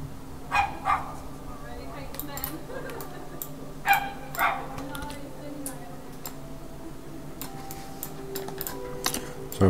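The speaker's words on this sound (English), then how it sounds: "Sorry about the dogs, if you can hear that barking." Dogs barking outside, several sharp distant barks in scattered bursts under faint background hum and light clicking, as from indoors at a computer.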